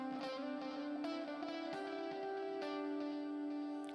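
Electric guitar played through a Crunchberries amp preset with the echo switched off, a series of crunchy, mildly distorted chords and picked notes ringing out alone and close.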